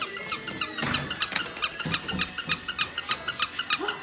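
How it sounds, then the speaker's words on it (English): A squeaky toy is squeezed over and over for seven-week-old F3 mini goldendoodle puppies, giving a quick, even run of loud, bright squeaks close by. "Where's a squeaker? I need a squeaker."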